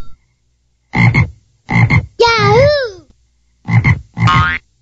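Cartoon frog croaks in a children's educational weighing game: loud, close, bouncy croaks in short bursts, one with a warbling rising-falling tone.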